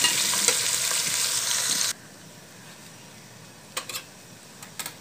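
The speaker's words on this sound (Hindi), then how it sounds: "इसको अच्छे तरीके से फ्राई कर लेंगे हम।" Potatoes frying in a spoonful of oil for aloo bhujia give a steady, loud broadband sizzle that cuts off abruptly after about two seconds, leaving quiet background with a few short scraping or clinking taps.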